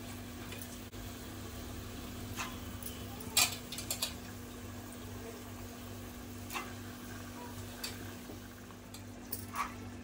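Squid rings in masala are stirred in a pan, giving soft, faint sizzling under occasional sharper scrapes and clinks of the spoon against the pan, sparse and quiet.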